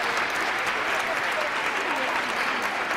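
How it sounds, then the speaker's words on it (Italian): Basketball crowd applauding steadily as a young player gets back up after a painful knock during a women's Serie A2 game, a continuous even wash of clapping throughout. "salutata dall'applauso del pubblico"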